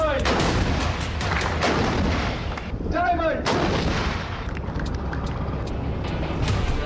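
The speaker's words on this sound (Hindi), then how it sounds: "ये 155 मिलीमीटर की सेल्फ प्रोपेल्ड आर्टिलरी है।" A 155 mm self-propelled artillery gun fires repeatedly, a run of loud, sharp booms with echoing tails spread across several seconds, one shot ringing with a whistling tone near the middle.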